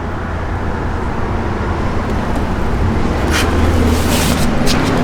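A 1965 Pontiac GTO idling after being started, a steady low rumbling engine with a faint hiss and a few light clicks, close and continuous without speech.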